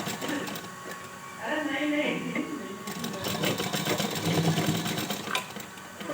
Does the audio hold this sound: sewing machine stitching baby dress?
yes